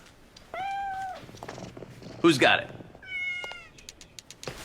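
Cats meow in two drawn-out, tonal calls, one early and one later, with people talking and a loud burst of voices between them.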